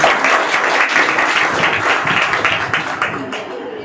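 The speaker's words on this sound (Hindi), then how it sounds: "ताली बजा दो उनके लिए।" A seminar audience in a network marketing training session claps loudly at first, then the applause thins and fades, mixed with murmuring voices.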